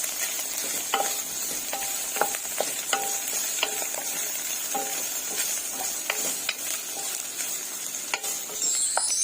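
Chicken fillet is stirred and fried in a pot, with a strong, steady sizzle punctuated by frequent clacks and scrapes of a spoon against the pot.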